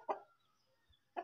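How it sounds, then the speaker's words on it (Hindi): Two short clucks from a hen sitting to lay an egg with a rooster nearby, one at the start and one at the end, separated by near silence with a faint low thump in between. "एक मुर्गा और एक मुर्गी, एक अंडा देने के लिए अंदर बैठी है"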